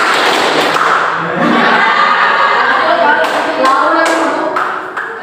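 Classroom children doing the Indonesian concentration clapping chant, loud group voices chanting in rhythm with sharp claps and thumps, filling the room.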